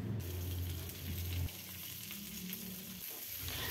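Cut green beans and carrots land in a hot frying pan and set off a loud, steady sizzle and crackle of frying, with stirring scrapes partway through; no one talks.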